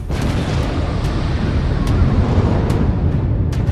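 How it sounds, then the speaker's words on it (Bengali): A bomb explosion effect in a Bengali audio drama, heard as a dense, roaring rumble that fills the whole span with no clear onset, loud and sustained. "হঠাৎই শুনতে পেলাম বোমার শব্দ।"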